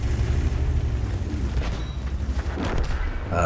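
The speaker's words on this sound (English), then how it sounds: "And you get an HE shot right there." A high-explosive tank shell hitting in World of Tanks: a loud, heavy rumbling boom with dense low rolling noise that lingers throughout, plus smaller crackling impacts toward the end.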